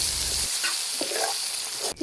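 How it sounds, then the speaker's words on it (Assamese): Taro and pork with ground spices frying in a pan, a steady broadband sizzle running throughout with a few brief stirring scrapes near the middle and a sharp clatter near the end. "এতিয়া মই ইয়াত কচুখিনি দি দিছোঁ আৰু কচুখিনি অলপ সময় ভাজিম"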